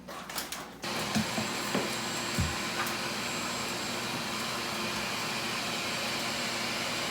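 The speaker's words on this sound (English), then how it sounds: "Now I'm going to grab my vacuum" A vacuum cleaner sucking up drywall dust inside a residence switches on after a second of clunking and runs with a steady, loud whine and roar, a few faint knocks over it.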